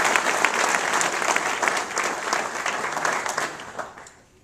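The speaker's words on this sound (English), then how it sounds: "so let's applaud his efforts" Audience applause fills a NASA agency awards ceremony, a dense steady clapping from a crowd that holds for a few seconds and then fades out near the end.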